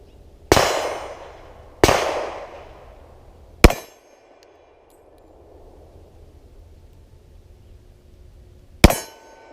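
A 10mm Polymer 80 pistol fires four sharp, loud shots at uneven intervals. Each crack rings out with a brief decaying tail, and there is a longer pause before the last shot, with no voices.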